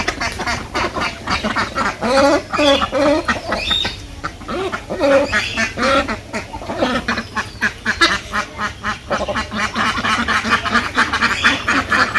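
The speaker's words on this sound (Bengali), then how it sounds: "আমি হাঁস ছেড়ে দিয়ে আহি" A group of ducks quacks loudly and repeatedly right after being let out in a rural village yard, with overlapping nasal calls in rapid bursts, close and continuous without speech.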